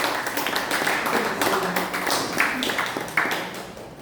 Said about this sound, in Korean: 크게 박수 주시기 바랍니다